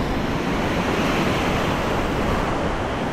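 Big ocean waves break and wash onto a Philippine shore at low tide, making a constant loud, hissing roar mixed with wind buffeting the microphone. No voices can be heard.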